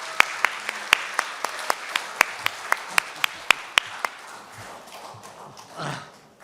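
Sharp, evenly spaced claps ring out at a book launch event, then fade into murmuring room noise.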